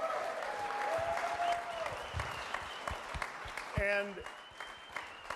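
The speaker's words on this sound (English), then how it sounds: "So a round of applause for our head football coach." An audience applauds the head football coach at a conference championship celebration for North Texas, fairly quiet clapping spread through the moment, with a brief spoken word near the end.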